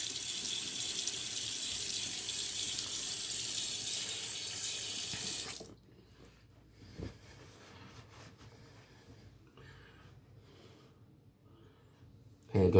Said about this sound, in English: I'm going to rinse the handle of my brush off because it is a bit soapy